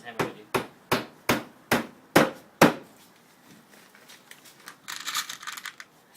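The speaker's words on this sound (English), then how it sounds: "Just going to hammer in a screw." A hammer drives a screw into a sheet of plastic used in place of window glass: seven sharp, evenly spaced knocks, close and loud, then softer rustling handling noise.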